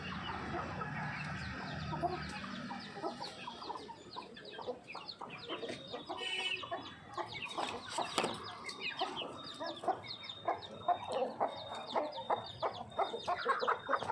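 A flock of young chicks peck at broken wheat grain, their clucks and chirps overlapping in a dense, busy chatter that carries on steadily throughout.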